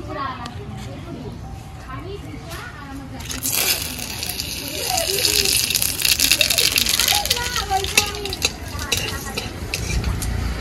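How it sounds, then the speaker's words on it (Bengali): Black cumin and bay leaf sizzling in hot oil for tempering a tilapia, eggplant and potato curry, a steady crackling fry with stirring rattles, building louder midway, under a voice talking throughout. "ফোড়ন দেব কালো জিরে আর তেজপাতা"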